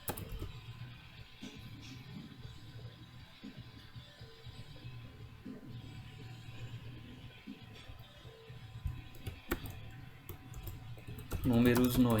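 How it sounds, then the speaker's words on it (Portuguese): Typing on a computer keyboard while writing a Visualg programming exercise: steady, quiet, rapid key clicks running throughout under a low hum, with a louder jumbled noise burst near the end. "Eu vou pular essa parte enquanto eu digito"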